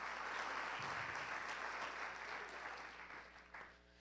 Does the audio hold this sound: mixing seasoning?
no